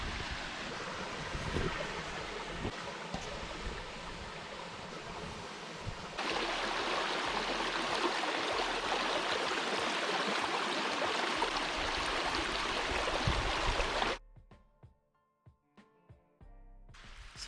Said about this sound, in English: Something to be said for the sound of water.